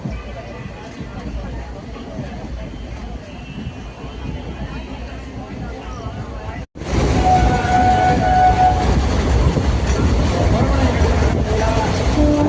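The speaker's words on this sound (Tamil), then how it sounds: "நம்ம ட்ரெயின் இப்போ லெஃப்ட் சைடில் டேர்ன் பண்ணிகிட்டு இருக்கு. ராமேஸ்வரம் ரூட்டுக்கு டேர்ன் பண்ணுது." Madurai–Rameswaram express train running on the line and turning left onto the Rameswaram route, a loud steady rumble of wheels and carriage noise that jumps even louder partway through.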